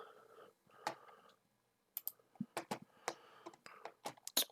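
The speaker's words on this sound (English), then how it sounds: "I'm going to type in AAL" Computer keyboard typing a stock ticker into an options trading platform, with scattered sharp key clicks in short irregular bursts, close and fairly quiet, no speech.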